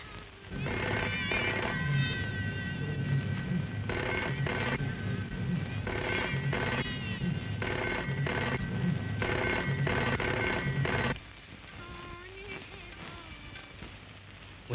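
A telephone bell rings in a 1975 Hindi film scene, loud repeated bursts of ringing with short gaps between them, then it stops and a quiet room tone with faint voice remains.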